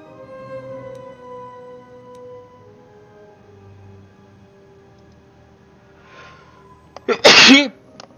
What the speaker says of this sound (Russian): Чихнул я